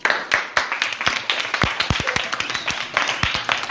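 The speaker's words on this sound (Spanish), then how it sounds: "Un aplauso para ellos." A crowd claps continuously, a dense patter of many hands at close range, steady for several seconds without voices.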